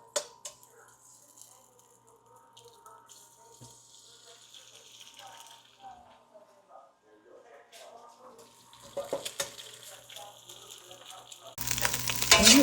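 Egg frying for ribeye fried rice: a soft sizzle with faint kitchen clatter that grows louder and harsher toward the end, where it becomes a loud hissing fry.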